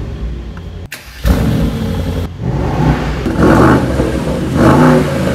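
A 2022 Mercedes SL63 V8 cranks with a brief whir, then bursts into a loud, close startup flare and settles into a deep, rumbling idle broken by two short throttle blips.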